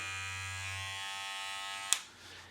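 Hair clipper with a turbocharged 6,500 RPM motor hums in a steady, faint electric buzz, then cuts off with a short click near the end, alone without talk.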